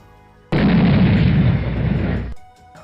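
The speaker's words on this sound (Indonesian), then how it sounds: "Menetasnya telur yang dimiliki Lingxi kemudian mengakibatkan ledakan yang sangat besar" Huge, loud explosion from a hatching egg in a game story, a sudden dense blast that roars steadily for nearly two seconds before cutting off and decaying.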